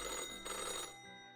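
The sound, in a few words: old-fashioned telephone ringing with metallic clatter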